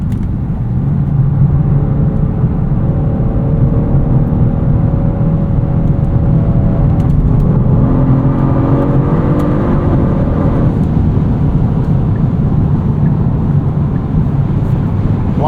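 A 2024 Genesis G70 AWD 3.3T twin-turbo sedan accelerates through gears in manual mode, heard from inside as a steady loud engine hum with rising pitch and a shift around the middle, mixed with road and wind roar.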